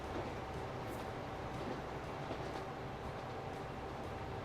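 Train running at top speed along a mostly straight, flat track in the game Transport Fever, a steady continuous rumble with faint rail clatter, no voices.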